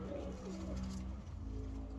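A pigeon coos close by in a soft, low, repeated warble, quiet and alone against a faint background hum.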